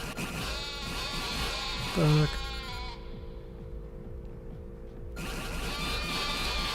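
A sheep bleats once in the Yu-Gi-Oh video game, a short wavering cry over game music, with a person talking in the background.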